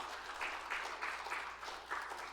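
A church congregation claps together during an Easter Sunday worship service, a steady wash of applause with rhythmic swells, heard from a middle distance in a large room.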